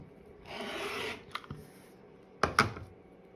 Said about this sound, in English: I'm just going to cut this excess off so that I don't have to worry about it